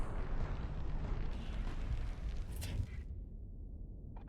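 A Doom-class ship in the space combat game Starsector is destroyed by a Reaper torpedo, producing a heavy rumbling explosion that roars for about three seconds, then drops to a quieter, fading rumble.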